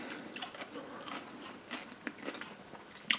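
Someone close by bites and chews crunchy sauerkraut flavored with garlic and dill, giving a run of quiet, irregular crunches that ends with one sharper crunch.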